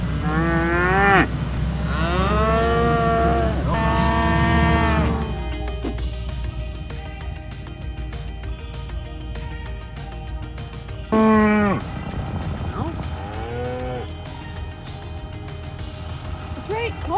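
Cattle mooing loudly and close during a snowy cattle drive in Utah, several long drawn-out calls in the first few seconds and another near the end, with engine rumble and someone talking between them.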